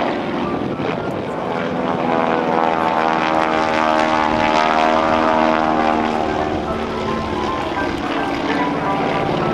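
A propeller-driven aerobatic airplane flown by John Mohr at the 2012 NAS Oceana airshow drones loudly and steadily, its engine pitch sweeping up and down as it climbs and dives through maneuvers.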